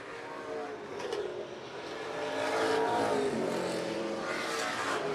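Pro stock race cars battling for position on an oval, a continuous roar of several engines rising as the pack draws nearer, loud and steady with no talk over it.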